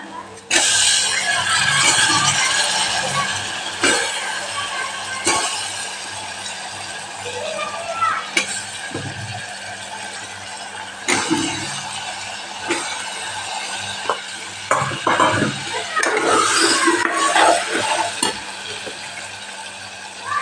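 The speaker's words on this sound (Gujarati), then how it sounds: "મસાલો સરસ મિક્સ થઈ જાય એટલે આપણે રીંગણા અને બટેકાને ઉમેરી દેવાના" Eggplant and potatoes tossed into hot spiced oil for a Kathiyawadi curry, sizzling steadily with scattered stirring scrapes and clinks, while children play and chatter loudly in the background throughout.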